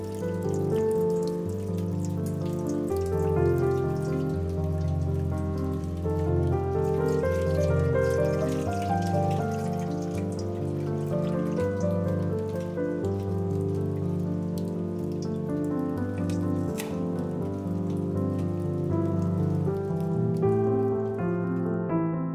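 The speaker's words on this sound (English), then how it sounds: "And a bowl to collect the coconut water." Coconut water pours steadily out of a freshly opened coconut into a bowl. The trickle is close and splashy, its pitch shifting as the bowl fills over about twenty seconds, with no talking.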